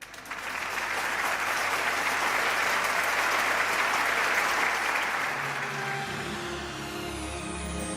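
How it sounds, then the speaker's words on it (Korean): Warm audience applause at a peace festival gathering, clapping swelling quickly to a steady full roar, then fading out over the last couple of seconds as a low tone begins. "다 함께 따뜻한 박수로 청해 듣도록 하겠습니다"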